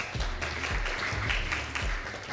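Symposium audience gives a moderate, fairly quiet round of clapping that continues evenly for a couple of seconds, with faint low thumps underneath.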